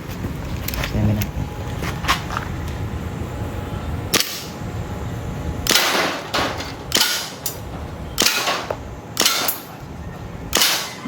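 A DB Glock 18 airsoft gas pistol fires a series of sharp, snappy pops, about ten shots in irregular single bursts over a hissy background, close and fairly loud.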